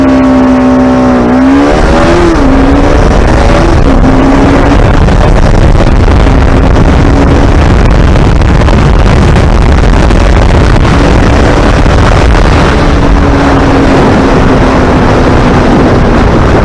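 Bajaj Pulsar RS200 and NS200 motorcycles in a drag race launch with loud, rising engine revs, then hold a steady, roaring drone with wind buffeting as they run at full throttle.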